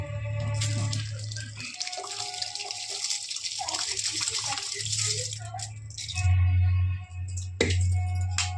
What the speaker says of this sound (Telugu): వాటర్ అయితే మరుగుతుంది.